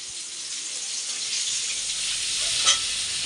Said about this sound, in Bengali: আর এই যে এখানে আলু বেগুন ভাজা হচ্ছে মশলা দিয়ে দিব